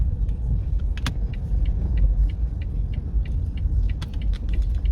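Steady low traffic rumble of cars on a busy city street, with occasional faint clinks and ticks over the continuous engine drone.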